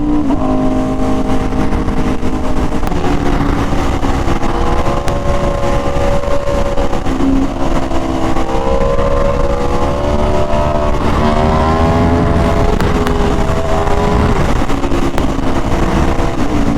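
Aprilia RSV4 Factory motorcycle engine accelerating hard through third gear, its loud, sustained exhaust note rising and falling in pitch as the revs climb, close and continuous with no talking.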